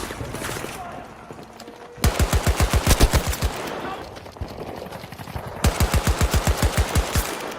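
Rapid bursts from the VCAR gun in a shooter video game, two loud fast-firing volleys of sharp evenly spaced shots with a quieter stretch between them and a player talking underneath.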